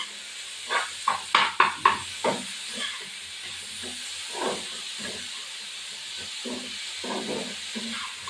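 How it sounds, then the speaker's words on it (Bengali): Cauliflower and potatoes fry with grated ginger in a pan during preparation of a Bengali katla fish curry, giving a hissing sizzle with several sharp spitting bursts early on, then softer, uneven crackles. "এবার একটু ফুলকপি আলু একটুখানি ভাজা ভাজা হবে"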